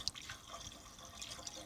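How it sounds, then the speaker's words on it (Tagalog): Water poured into the radiator of an old excavator, faint splashing and trickling with a few brief drips, quiet and close, with no talk. "lagyan natin tubig guys"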